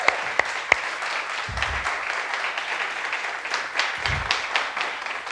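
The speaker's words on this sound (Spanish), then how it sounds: "Y eso se merece un aplauso." A church congregation applauds during a sermon, a steady wash of many hands clapping at moderate volume with a few sharper claps near the start and low rumbles underneath.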